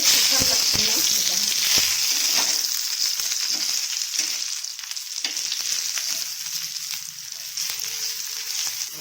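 Bitter gourd (karela) slices frying in oil on a flat tawa give a steady, close, bright sizzle throughout, with occasional stirring scrapes and faint voice in the background.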